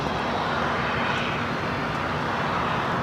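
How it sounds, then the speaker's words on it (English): Airbus A380 taxiing at LAX toward the international gates, a continuous, dense engine rumble and hiss at steady loudness with no talking. "Yeah, you got two A380s rushing to the international gates."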